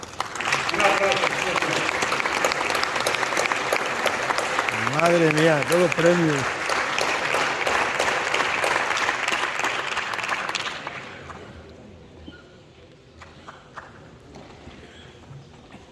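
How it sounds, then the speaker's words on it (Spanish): Crowd applause at the award ceremony of the Avileña cattle fair and auction in Ávila: sustained, fairly loud clapping under a speaking voice for about eleven seconds, then fading to a quiet room. "Un aplauso."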